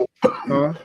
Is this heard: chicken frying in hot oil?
no